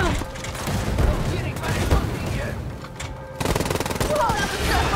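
Rapid automatic gunfire in Wolfenstein: Youngblood, sustained bursts of shots rattling close and loud, with a brief lull before another volley, while a player talks over the fighting.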